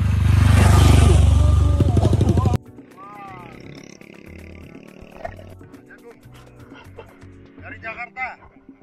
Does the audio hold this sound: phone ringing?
no